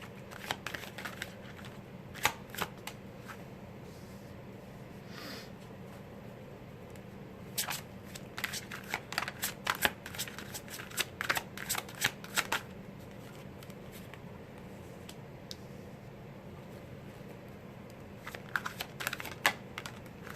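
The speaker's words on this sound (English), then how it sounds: "I'm going to deal the cards out and then we will discuss them." Tarot cards are shuffled and dealt onto a table in a quiet room. Crisp riffling bursts and soft slaps come in irregular clusters, close and fairly faint, with no talking.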